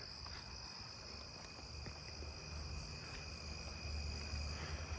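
Narrow-winged tree cricket trilling in a residential area after dark, a sustained high pitched buzz running without pause beneath soft background noise, fairly faint with a slight swell toward the end.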